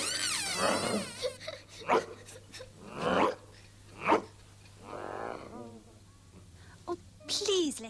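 A cartoon dog in the animated Peter Pan barks and yaps in short separate bursts, mixed with whimpers and sniffs, close and fairly loud, with brief character voices around the barks.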